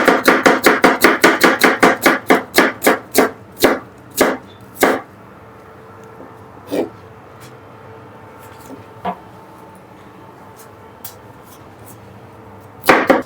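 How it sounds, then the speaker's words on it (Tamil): A knife chops onions into even pieces for a bachelor-style African chicken curry, starting with a rapid run of sharp board knocks that slows into a few widely spaced cuts, then a long quiet stretch before one final chop. "வெங்காயத்தை ஒரே ஷேப்ல கட் பண்ணி எடுத்துக்கணும்"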